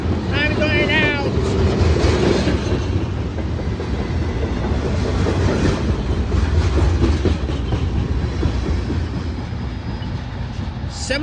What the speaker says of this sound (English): m316-26 eastbound mixed freight train.